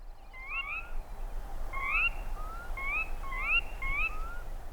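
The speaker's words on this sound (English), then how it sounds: "That's known as the dawn chorus. It's the symphony of birdsong heard at daybreak from spring to midsummer." Dawn chorus in Yellowstone at daybreak: repeated clear whistled bird calls, several rising and falling notes in a loose rhythm over a soft background hush.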